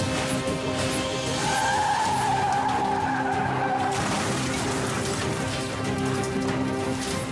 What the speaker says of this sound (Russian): На крутом спуске машину занесло.